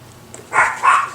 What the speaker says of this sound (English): Can we just stop barking